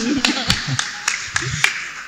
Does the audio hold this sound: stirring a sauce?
no